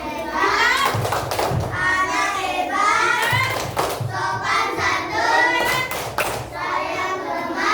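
Class 2B of an Islamic primary school claps out a chant with their teacher, children's voices chanting in a steady rhythm over repeated hand claps and thumps, loud and close throughout.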